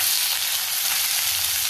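Onion and curry leaves sizzle steadily in a hot pan, a dense, even frying hiss that holds close and loud throughout with no voices over it.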